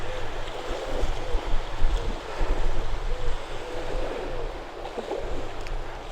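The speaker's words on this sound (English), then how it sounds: "the wind's cutting across rather than towards me" Strong wind buffets the microphone over choppy water along a coastal trail, a steady broadband roar of gusts and lapping waves with low rumbling, loud and continuous throughout.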